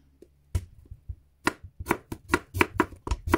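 A knife slicing banana blossom into small pieces on a cutting board, a quick run of crisp, close chopping taps that start sparse and speed into a steady rhythm, with no talking.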